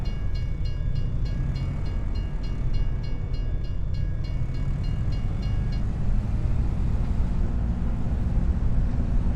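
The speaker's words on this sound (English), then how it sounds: "Oh, train's coming through." A train rolls past in Farming Simulator 25, a steady heavy rail rumble with clacking wagons and a repeated high horn-like tone early on, loud and continuous throughout.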